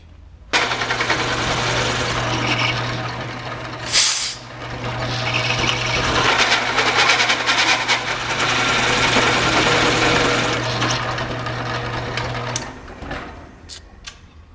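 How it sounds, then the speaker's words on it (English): A power drill bores holes in steel ears cut for a mini excavator bucket built from a backhoe bucket, a steady high whine with grinding bite into the metal, pausing briefly once, then winding down near the end. "I got the ears templated, cut, and ready to be drilled again"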